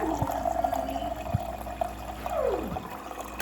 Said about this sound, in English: add a cup of water there